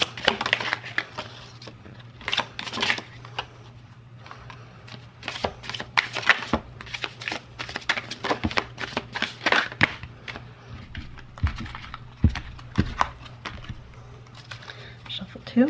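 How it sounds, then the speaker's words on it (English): A tarot card deck being shuffled by hand, with a steady run of crisp, close papery riffles and slaps lasting throughout, over a low constant hum. "Shuffle 1."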